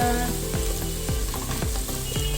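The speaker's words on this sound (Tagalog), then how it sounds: "I love the smell of the garlic fry." Garlic and spices fry in a pan for kofta meatball curry, sizzling steadily up close while a utensil stirs in a regular back-and-forth rhythm.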